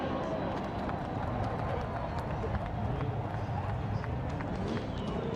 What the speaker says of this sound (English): They start pounding their feet.